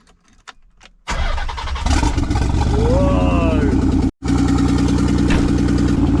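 A Nissan 300ZX twin turbo engine with open downpipes cranks and roars to life around one second in, then runs loud and raspy with a brief cutout; a voice exclaims briefly.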